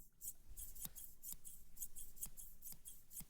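Educated Beards grooming scissors snip right against a microphone, a quick regular series of about eight crisp metallic snips with soft blade rubs between, very close but low in level, no talk.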